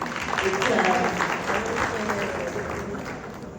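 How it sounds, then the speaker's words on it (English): Audience at the Women in Energy Forum keynote gives a moderate round of applause for the first female chairperson, steady clapping at a fair distance under a speaker's voice carrying over it. "Can we give her a round of applause?"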